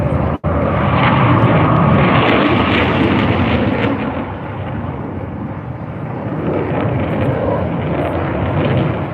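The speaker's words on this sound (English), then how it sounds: "The German Air Force and their multi-role tanker and their 4 Typhoons just for you here in Darwin today." A German Air Force flypast of four Eurofighter Typhoon jets over Mindil Beach, Darwin, brings a loud, continuous jet roar that holds steady, eases slightly midway, then swells again.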